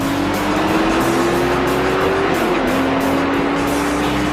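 American muscle cars roar at a drag strip during street racing, a loud, sustained engine drone with a rising pitch that dips and climbs again as gears shift.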